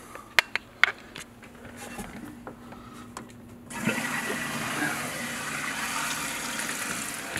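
A Mansfield toilet tank refills with a steady rushing hiss of water, starting abruptly after a few scattered clicks and taps, close by and continuous.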